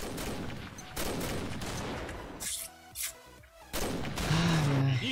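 Gunfire from the online shooter Combat Arms crackles in several quick bursts and single shots, moderately loud, with gaps of quieter game ambience between volleys.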